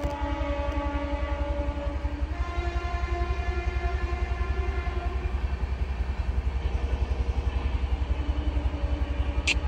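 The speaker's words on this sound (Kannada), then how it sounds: "ಟ್ರೈನ್ ಬಂದು ಗೈಸ್" A train pulls into a station at night: a steady low rumble with sustained harmonic tones from the engine, loud and continuous throughout, with a brief high squeal near the end and no talking.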